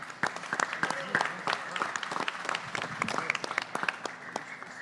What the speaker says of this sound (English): make a round of applause for Jenna